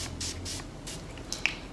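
Makeup setting spray hisses from a bottle held well away from the face in two quick airy bursts, followed by a couple of small clicks from the nozzle.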